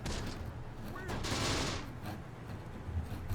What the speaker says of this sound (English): There's still 3 of them shooting